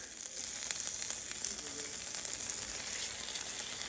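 Seasoned steak frying in a pan, giving a steady, hissing sizzle with faint crackles, continuous and moderately close, no voices.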